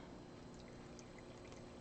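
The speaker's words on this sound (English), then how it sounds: "We'll see what happens if we pour this one on the center." Liquid poured onto clumping cat litter, aimed at the center of the box, makes a soft, steady hiss of pouring that runs faintly and evenly for about two seconds with no voices.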